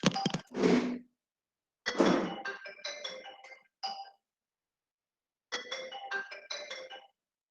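A phone ringtone for an incoming call plays as clear chiming melodic bursts, with two quick notes, a longer phrase, a pause, then the phrase again, fairly quiet and alone.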